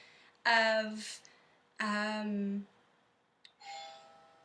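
A doorbell sounds in three separate chimes indoors, each a clear ringing tone about a second long, fairly quiet with pauses between them and nobody speaking.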